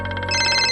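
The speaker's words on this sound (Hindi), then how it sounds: "સુરેશ ભાઈનો ફોન છે।" Mobile phone ringtone, a bright electronic melodic tone stepping up in pitch, close and clear, very brief and alone.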